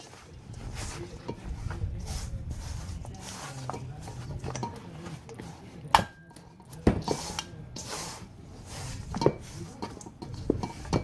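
Flour and water are being stirred into bread dough in a bowl and then worked by hand, giving soft close scraping and slapping with occasional knocks against the bowl, fairly steady and moderately quiet.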